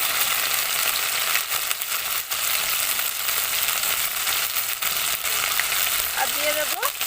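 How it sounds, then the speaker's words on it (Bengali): Spice masala of turmeric powder, chilli powder, sugar and salt sizzles steadily in a pan while being sautéed for a vegetarian festive thali, a continuous close frying hiss with faint stirring scrapes and no talking. "সব কিছু দিয়ে দেওয়ার পরে আমি ভালোভাবে মশলাটা কষিয়ে নেব"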